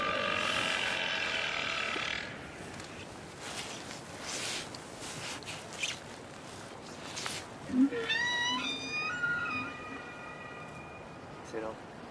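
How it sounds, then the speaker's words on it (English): Antarctic whales call underwater through a hydrophone, with rising and falling whistles and tonal moans over a steady hiss; people talk quietly nearby. "test the hydrophone that will put us on the whale's trail"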